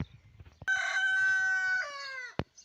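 A single rooster crows once, a long clear cock-a-doodle-doo rising then trailing off, fairly close, with a faint rustle before and a click after.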